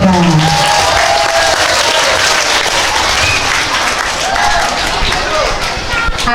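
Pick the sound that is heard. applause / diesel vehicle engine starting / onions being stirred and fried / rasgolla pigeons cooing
applause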